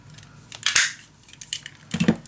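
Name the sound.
cutting a paper corner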